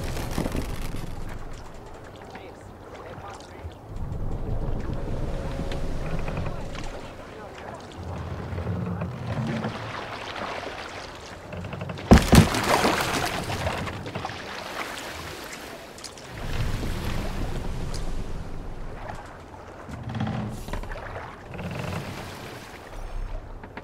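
A Viking longship under sail in Assassin's Creed Valhalla, with steady water wash and wind rushing around the hull, a sharp knock partway through, and voices shouting orders over it.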